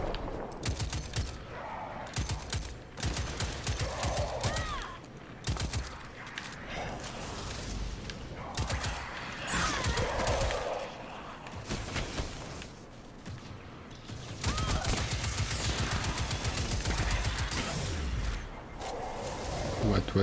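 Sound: gunfire in the video game Destiny 2

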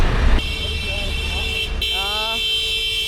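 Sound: car horns honking in busy traffic

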